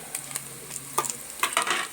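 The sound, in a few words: ginger garlic paste frying in oil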